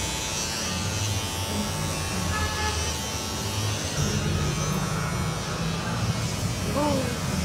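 Electric hair clippers cutting a child's hair make a steady, close buzzing drone that runs throughout, with soft voices faintly underneath.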